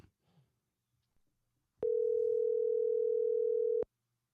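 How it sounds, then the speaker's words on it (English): A steady telephone dial tone sounds loud and alone for about two seconds as a call is placed, preceded by faint brief noises. "we're going to give Jeremy a call right now and see if we can get him on the phone"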